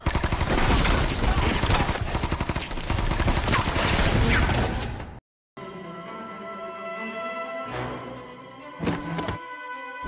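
Dense rapid gunfire from a Chinese action film fight scene, a loud continuous fusillade of overlapping shots for several seconds, then a quieter stretch broken by a few sharp isolated bursts and thuds.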